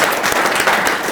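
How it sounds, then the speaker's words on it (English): A hall audience gives a round of applause at the close of a digital media workforce training panel, a dense steady wash of many hands clapping at once. "please join me in giving a round of applause."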